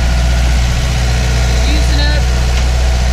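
A boat engine runs steadily while charging the batteries underway, a constant low drone with harmonic hum filling the clip, close and loud, with faint voice-like traces mixed in.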